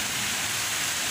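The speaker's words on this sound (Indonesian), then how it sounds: "hujan gede banget ya, hujan deras sekali serta disertai angin yang cukup kencang" Heavy rain driven by strong wind in Wangon, a dense, constant roaring wash of noise with no breaks and no voices.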